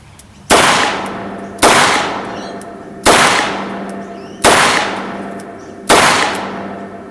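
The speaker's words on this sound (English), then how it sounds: "it's better to fire a revolver that little bit slower" Five loud revolver shots fired one at a time at a slow, steady pace about a second and a half apart, each a sharp crack with a ringing decay, close by and with no talking.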